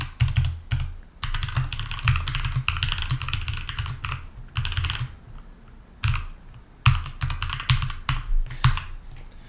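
Fast typing on a computer keyboard while writing a Python unit test with pytest: continuous, close clattering keystrokes in bursts, with a few brief pauses between runs and no talking.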